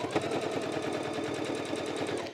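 A sewing machine stitches quilt binding in a fast, continuous, even rattle of needle strokes, loud and close, with no talk.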